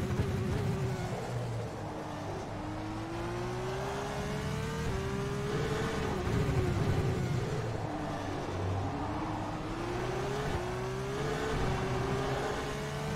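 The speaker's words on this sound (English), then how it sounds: "Car sounds pretty similar to this year's Formula 2 car" Formula 2 race car engine in the racing simulator rFactor 2 at the Jerez circuit, a continuous loud, near whine whose pitch climbs repeatedly and drops at each gear change, with no talk.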